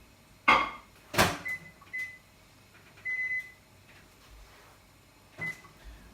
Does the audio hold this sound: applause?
no